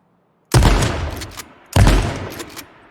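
Two loud, sharp shotgun blasts from the video game H1Z1: Just Survive, each with a sudden crack followed by a rolling decay, spaced a little over a second apart with silence before the first.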